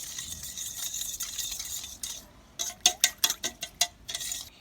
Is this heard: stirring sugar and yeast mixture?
yes